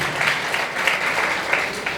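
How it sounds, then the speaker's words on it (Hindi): An audience claps steadily at a coaching-class gathering, a dense, even wash of many hands applauding close by with no pauses. "तालियां बजते रहनी चाहिए।"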